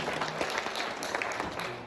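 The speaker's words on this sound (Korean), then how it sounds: "뜨거운 박수 한번 하겠습니다" Brief, fairly faint burst of applause from a church congregation during a worship service, dense and steady with no speech over it.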